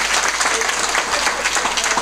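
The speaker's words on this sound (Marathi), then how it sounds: "एकदा जोरदार टाळ्या वाजवा सगळेजण." A large audience at a Marathi kirtan programme in Nandur Ghat breaks into steady, loud applause, dense clapping filling the space continuously without pause.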